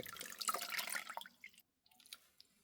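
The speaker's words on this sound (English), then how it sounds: "Rinse out the excess water." Water drips and trickles close by from soaked crocheted granny squares, a busy spatter of drops that tapers off into a few scattered drips after a brief pause.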